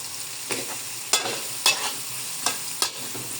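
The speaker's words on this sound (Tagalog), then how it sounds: "Lagay naman natin ngayon yung ating patatas, mga idol. Patatas, para maprito siya ng konti." Potato pieces fry in a pan of chicken afritada with a steady sizzle, broken by several sharp clacks and scrapes of stirring.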